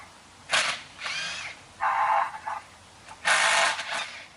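A power drill reverses bolts out of a wooden cement garden box mould, with three separate bursts of whirring spin and short pauses between them, close and fairly loud.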